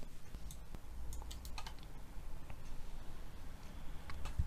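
Quiet typing of Java code on a computer keyboard, irregular soft key clicks scattered over a low steady room hum, with no talking.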